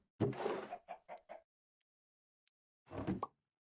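Minecraft chickens cluck in a mob farm: a burst of several quick clucks, a pause with faint clicks, then another cluck, close and clear with no talk.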